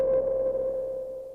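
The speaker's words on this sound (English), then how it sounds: "I'm going to use track 8 as my bass sound" Bass voice on track 8 of an Elektron Digitakt, a single sustained low tone with a strong steady fundamental and some high-end overtones, fading slightly over its length with no talk.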